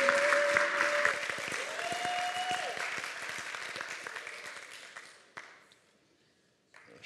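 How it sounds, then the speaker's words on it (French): Congregation at a church service applauding a preacher, with clapping and a few sustained voices or cheers that fade out toward the end, followed by brief quiet. "On peut l'applaudir."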